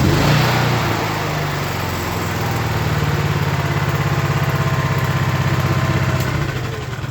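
A Honda EM 6500 S generator engine runs close up and loud, with a steady pulsing throb that lasts the whole time after its fuel system was cleaned out.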